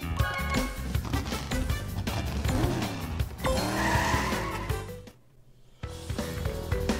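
Karts race in Crash Team Racing Nitro-Fueled on a tricky track, engines droning loud and continuous with tire squeals and skids over game music, a brief dip in the middle before the roar resumes.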